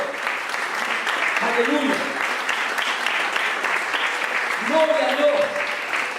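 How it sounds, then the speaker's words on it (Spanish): Church congregation applauding at a Sunday service, steady clapping throughout with voices calling out praise over it. "Den ese aplauso a Jesucristo."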